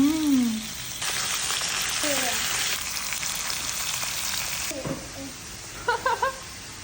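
Wagyu beef sizzles on a Korean BBQ grill, a steady crackling hiss close by that swells and fades, while people talk briefly over it.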